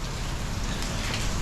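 Steady rain falls on the streets of Taipa Village in Macau, a dense, even hiss that stays constant and close without any talking.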